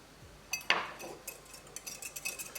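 A spoon stirs soy sauce, hoisin sauce and cornstarch with garlic in a small bowl, giving a clink against the dish and then a quick run of light, close scraping and tapping strokes.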